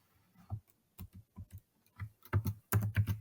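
Someone types a username and password on a computer keyboard, producing close, crisp key clicks in uneven bursts that grow louder and denser toward the end.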